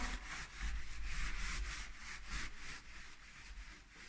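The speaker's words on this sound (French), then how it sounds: "La faire mousser et on frotte." Sponge scrubbing clay cream over a limescale-covered surface, a soft, close rhythmic rubbing with repeated back-and-forth strokes, quiet and steady.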